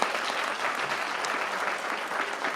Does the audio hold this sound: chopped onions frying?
no